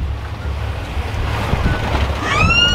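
Wind and rain squall buffeting a sailboat at sea during an Atlantic crossing, a steady low roar of gusts and spray that swells slightly toward the end, with faint creaking tones emerging.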